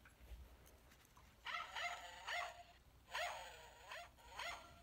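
A toy dog keychain gives several short electronic barks in two bursts, faint and close, with no talk over it.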